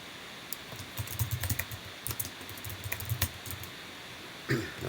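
Typing on a computer keyboard while filling in a text field on a web form: a close, irregular run of light key clicks in quick bursts, with a slightly louder clack near the end.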